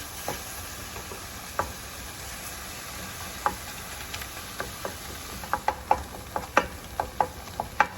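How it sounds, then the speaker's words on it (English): Chopped onions fry in a pan for keto nachos, a steady soft sizzle with scattered pops and stirring taps that grow more frequent toward the end, fairly quiet and with no talking. "I've got my chopped onions going in."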